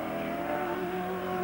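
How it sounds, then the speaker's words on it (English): Bob Morris's race car from the 1983 James Hardie 1000 drones loudly through the braking area, its engine a steady, close, tonal roar. "he's the Bob Morris into the braking area in car 4"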